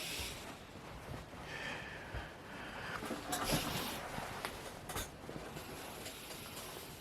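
An older-model locomotive rolls into a station on a Hornby, Airfix or Mainline model railway, a faint continuous rumble with light clicking and a few sharper ticks around the middle, close and quiet.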